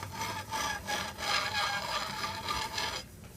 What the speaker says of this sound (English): So I usually use like a bench scraper just to straighten my cakes.